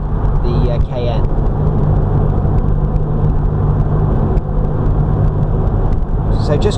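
Porsche car cruising on a dual carriageway, a loud, steady engine and road drone with tyre roar heard from inside the cabin, with a voice talking over it.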